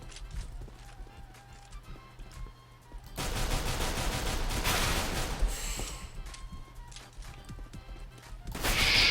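Rapid gunfire bursts from the video game CS:GO, played within a Minecraft mod. The shots come in dense, loud stretches with short gaps between them, set against quieter game ambience.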